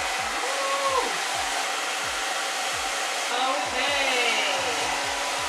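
A hair dryer blows steadily and loudly while drying freshly dyed hair at home, a continuous close whoosh with slight shifts as it moves near the scalp; one brief spoken word sounds over it.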